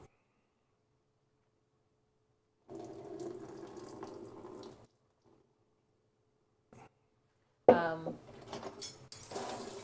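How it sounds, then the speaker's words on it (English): Water is drained from softened radish in a kitchen sink, with a soft trickle followed by louder splashing and the clatter of a container near the end. "we are going to drain out this water in the bottom before we add the rest of the ingredients"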